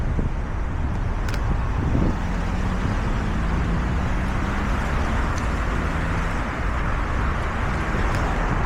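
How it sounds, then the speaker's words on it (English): A car passes close to a cyclist on a road out of Leicester where a cycle lane ends, a loud, steady roar of engine and tyre noise blended with strong wind buffeting on the microphone. "And the car just gives you absolutely no room whatsoever."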